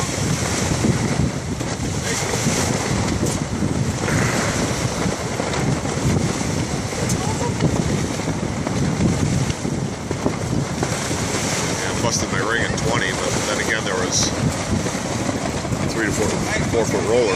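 Strong wind of about 15 to 16 knots roars steadily around a boat on open water with rolling waves, a loud, continuous buffeting rush across the microphone, while voices speak faintly beneath it.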